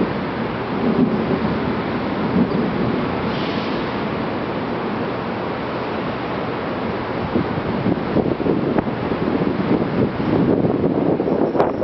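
Deep thunder from a lightning strike rolls through a rainy storm, a sustained low rumble with wind and rain hiss filling the whole stretch, swelling again near the end, with no voices.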